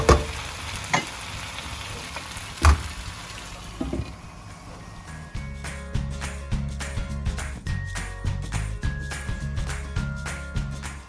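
Potatoes with dried anchovy cook in a pan, a few sharp knocks giving way to a busy crackling sizzle with rhythmic stirring and scraping, fairly close, with no speech.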